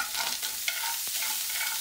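Sausage sizzles in a pan while being browned for a single-serving sausage gravy, a steady soft frying hiss with a couple of faint scraping stirs, no voices.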